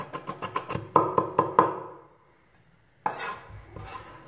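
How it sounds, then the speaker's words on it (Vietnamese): A knife mincing chili and aromatics for chicken curry on a cutting board: a quick run of about eight evenly spaced chops, a brief pause, then another rougher burst of chopping, close and crisp. "Mình sẽ dùng dao nghiền nhỏ."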